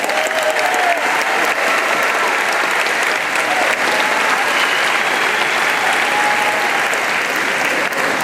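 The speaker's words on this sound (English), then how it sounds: "can we all give Aiden a round of applause?" Sustained applause from an audience at an 8th grade promotion ceremony, a dense steady wash of many hands clapping at even loudness throughout, with faint crowd murmur beneath.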